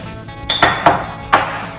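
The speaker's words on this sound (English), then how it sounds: "I'm going to give this a good stir" A spoon clinks against a bowl in four sharp, uneven knocks while a chocolate cherry-pecan energy bar mixture with peanut butter and vanilla is stirred, loud and close with a quiet background.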